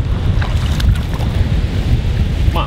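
A motor boat engine, its propeller fouled with seaweed, runs in ocean surf near a river mouth. It is a steady, close, low rumble mixed with wind buffeting and breaking waves, and no voices are heard.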